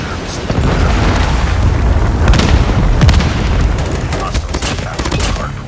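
A predator missile blast and surrounding gunfire in a Call of Duty hardpoint multiplayer match, with heavy booming explosions and rattling bursts of shots rolling continuously and loudly while a voice speaks over the chaos.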